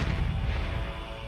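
A black powder explosion sounds as a dense, sustained low roar that rumbles and fades slightly over a little more than a second.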